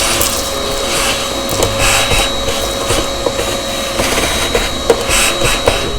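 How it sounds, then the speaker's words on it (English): A vacuum cleaner with a hose sucks out the built-in grinder of a Breville Barista Express BES870 espresso machine, giving a steady, loud whooshing roar with small rattles and bumps throughout, with no talking. "Only thing you need is vacuum cleaner with a hose."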